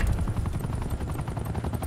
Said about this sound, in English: Enemy attack helicopter above.